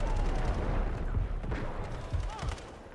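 Gunfire in the mobile FPS war game Delta Force: Hawk Ops, played on the Chinese server: repeated sharp shots and short bursts pop over a dense, rumbling battlefield ambience throughout.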